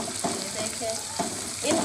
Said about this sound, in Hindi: अब हम इसमें ये प्याज डाल लेंगे